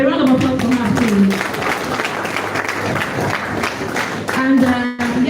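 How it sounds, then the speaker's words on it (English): A ceremony audience claps for an arriving guest, a broad wash of steady applause between stretches of amplified voice or music at the start and end. "A round of applause for her, please."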